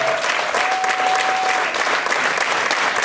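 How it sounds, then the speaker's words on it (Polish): An audience at a festival final gala bursts into dense, sustained applause, loud and close. Many hands clap continuously with a faint crowd murmur. "Halina Frąckowiak, raz jeszcze ogromne brawa."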